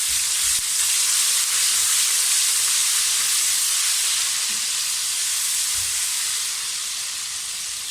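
Garlic ginger paste fries in a pan for a whole green moong dal: a loud, steady, close sizzle and hiss runs unbroken throughout, with no talking.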